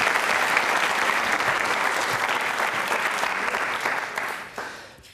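Students and guests at a school quiz show on consumerism clap for a girl, a full, sustained round of applause that holds steady before tapering off at the end.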